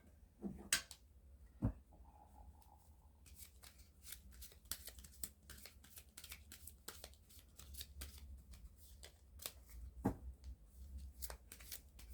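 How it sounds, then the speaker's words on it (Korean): Tarot cards shuffled and drawn close up, a run of crisp riffling flicks and soft slaps at a steady pace after a few isolated taps, quiet and with no talk. "한번 추가 카드 뽑아볼게요"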